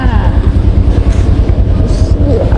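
A train rumbles loudly and steadily nearby at Nakhon Pathom railway station, Thailand, with rolling rail noise and faint squeals throughout.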